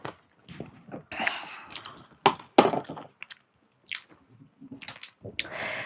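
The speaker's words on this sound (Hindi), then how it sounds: "मुंह में रखते ही पकोड़े काफी कुरकुरे लग रहे हैं खाने में" Someone bites into and chews crispy Pahadi lobia dal pakoda close to the ear, with loud crunchy bites and wet chewing in irregular bursts separated by brief silences.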